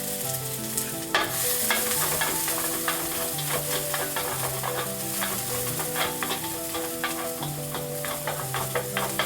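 Scallion whites stir-frying in a very hot wok make a loud, dense sizzle. Repeated scraping and tossing strokes sound over steady background music.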